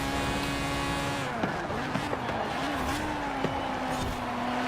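A 1985 Mazda RX-7 GSL-SE in Forza Horizon 4 sliding out under full throttle, a steady engine drone with wavering tire squeal running continuously and loud throughout.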